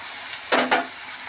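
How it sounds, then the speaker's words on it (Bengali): Low background hiss from a pan, interrupted by two quick bursts of sizzle close together, like something stirred into hot oil, while cooking an eel fish curry. "এবার একটু ভাজা হোক এটা"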